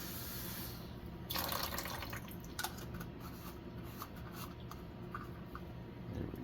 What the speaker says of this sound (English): Let's fill this up with water.